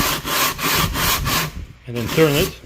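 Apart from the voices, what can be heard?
sanding an engine part on taped-down sandpaper with WD-40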